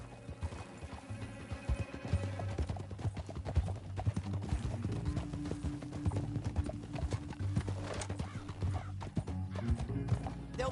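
Rapid clip-clop of galloping horse hooves in Red Dead Redemption 2 pounds continuously, with a horse whinnying early on and a low musical drone underneath.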